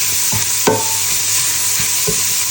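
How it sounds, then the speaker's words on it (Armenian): Carrot and onion fry together in oil for a homemade chicken soup, a steady close sizzle punctuated by a few sharp stirring clacks of a utensil against the pan. "տապակելու եմ քիչ գազարը սոխի հետ"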